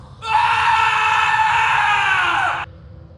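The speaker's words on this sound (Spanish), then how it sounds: "escuchó a Mateo soltar un grito ahogado" A single sustained, strained scream from a man in a mine rises, holds for about two seconds, then cuts off sharply, heard close and alone.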